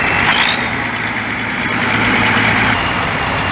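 A 1966 Case Model 1200 tractor rated at 120 horsepower, rolling past in a parade, gives a steady loud diesel drone and rumble, close and continuous, with no break.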